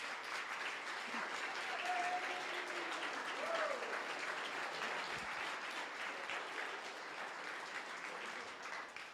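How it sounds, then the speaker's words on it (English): Sustained audience applause for venture mentors at a startup demo day awards ceremony, a soft, distant, even patter of many hands lasting about nine seconds, with faint voices and a brief whistle under it. "please stand up and let's give you a wonderful round of applause."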